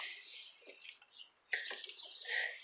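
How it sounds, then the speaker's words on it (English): Several birds sing and chirp in an evening garden in Pittsburgh in early May, bright twittering calls at moderate distance, overlapping and continuous with brief louder bursts. "I can hear quite a lot of birds right now."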